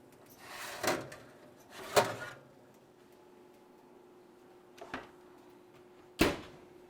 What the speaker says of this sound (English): it's time to take our waffles out of the oven